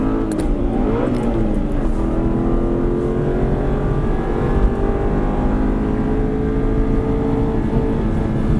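An Aston Martin V8 Vantage accelerates around the Silverstone circuit, its engine note climbing steadily through a gear change and holding a loud, continuous rising roar from close up inside the car.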